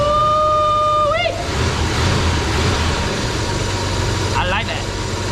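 A Chevy S10 pickup engine idles smoothly with an even, low rumble. Brief whistling tones rise over it near the start and again near the end, and voices are heard at times.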